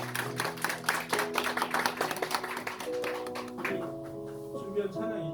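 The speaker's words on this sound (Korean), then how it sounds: "여러분 축하의 박수 한번 주시기 바랍니다" A church congregation claps together in dense, lively applause that thins out toward the end, while sustained organ or keyboard tones ring underneath.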